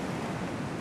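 Sea waves washing onto a beach, a brief soft roar of surf with a wind-blown hiss, steady and fairly faint, with no voices.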